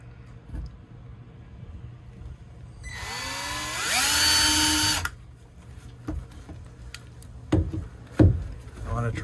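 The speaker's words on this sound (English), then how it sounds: "I have a short drill that will fit in here with my 1/8-inch drill bit to drill the hole." A short power drill with a 1/8-inch bit bores holes into an RV gray water tank, one loud whining burst of about two seconds rising in pitch as it bites, followed by quieter clicks and handling knocks.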